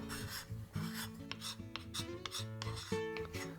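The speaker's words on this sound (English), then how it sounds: "go outside of the area and just scrape some of that wood" Rhythmic rasping strokes of a scraper drawn across a warped wooden guitar top, close and repeated in quick succession, with a faint musical tone underneath.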